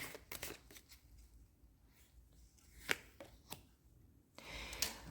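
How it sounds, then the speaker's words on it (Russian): Tarot cards being handled and slid back into the deck, giving soft papery riffles and taps with a few sharper flicks, close and quiet with no talking. "Давайте я раскрою, переложу эти карты в колоду."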